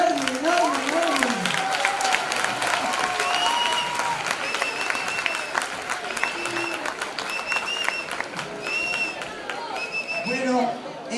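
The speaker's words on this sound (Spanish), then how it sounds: "Así que un aplauso, pero pequeño no, enorme." A television studio audience breaks into big sustained applause, dense steady clapping with cheers and whistles running throughout, while voices talk over it.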